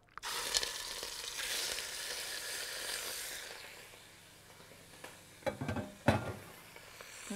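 Lamb liver with cumin fries in a pan, starting with a strong hissing sizzle that fades, then sharper stirring knocks and scrapes toward the end.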